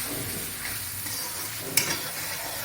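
Garam masala and tomatoes sauté in oil in a pan for a Bengali cabbage dish, with a soft steady sizzle and a brief sharp scrape of stirring near the end.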